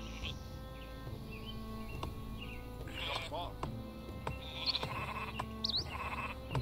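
Sheep bleat in the Northgard strategy game, several short wavering calls scattered over a steady music and ambience bed, with a few bird chirps mixed in.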